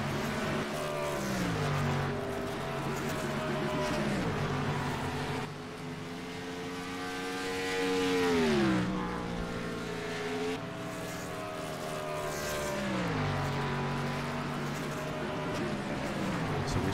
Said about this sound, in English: 54 car coming down pit lane.